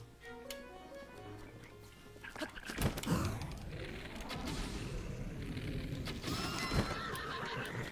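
A horse neighs and whinnies loudly in Breath of the Wild, with clip-clopping hooves and scattered thumps and impacts in a busy, game-like soundscape.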